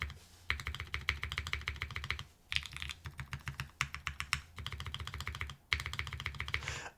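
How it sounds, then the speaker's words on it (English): Typing on a Juna mechanical keyboard gives a quick, steady clatter of key presses, close and fairly soft, in several bursts separated by short pauses. "I can hear all of the switches are a bit more subtle in sound"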